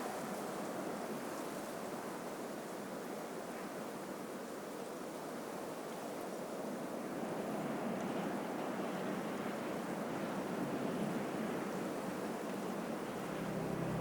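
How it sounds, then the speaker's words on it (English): Steady wind sweeps across the high Ecuadorian Andes near Chimborazo volcano, a continuous broadband rush that holds at an even, moderate level throughout with no voices. "The persistent wind finally drives away the cloud cover"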